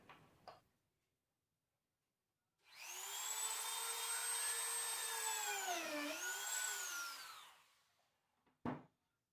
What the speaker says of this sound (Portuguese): Vou furar com uma broca bem fina agora.